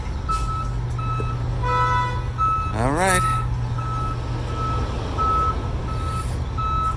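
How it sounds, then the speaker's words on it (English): A news truck's reversing alarm beeps steadily at a regular pace over a low idling engine, with a brief rising horn-like tone in the middle and a voice speaking briefly. "Ooh, we got a news truck here."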